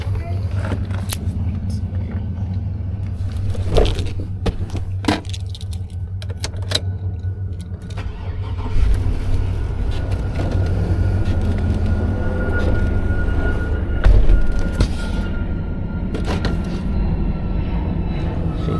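Tow truck backing out to load a vehicle: a steady low diesel engine rumble with clanks and jangling rattles, rising in power midway, while a person talks intermittently over it.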